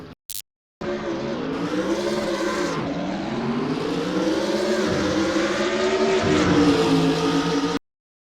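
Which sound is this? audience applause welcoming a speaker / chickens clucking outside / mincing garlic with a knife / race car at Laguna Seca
race car at Laguna Seca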